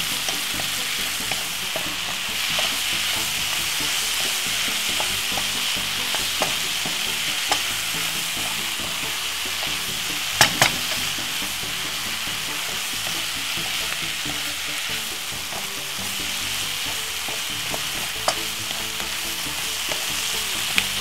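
Curly leaf kale stir frying in a pan gives a steady, close hiss of sizzling oil for the whole stretch, punctuated by occasional soft clicks and scrapes of stirring.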